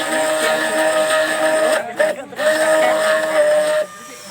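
A hand blender runs in a mix of aloe vera liquid shampoo with a steady motor whine, briefly cutting out and restarting midway, then switching off near the end.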